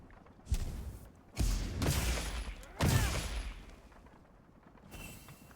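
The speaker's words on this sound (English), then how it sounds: "Next is the charge big bang." Hammer charged big bang attack in Monster Hunter Wilds: three heavy booming impacts spaced about a second and a half apart, then a fainter fourth hit, loud and close with no talk.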